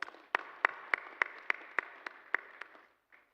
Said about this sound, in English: A round of applause for the implementation partners.